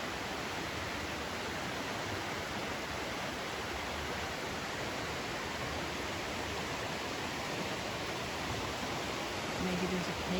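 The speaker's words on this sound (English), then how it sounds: "See some of the water coming down the mountain there," Water from the mountain flows steadily down into a creek at Trough Creek State Park in Pennsylvania, a constant broadband rush that stays even and moderately loud throughout.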